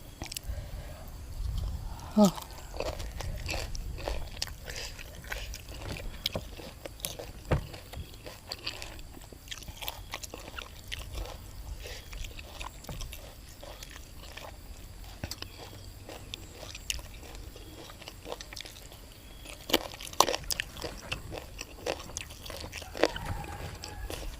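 Someone eats a spicy Lao-style pounded galangal salad with fermented fish and fresh figs beside a pond, with soft, close crunching and chewing bites under frequent talk and quiet outdoor background.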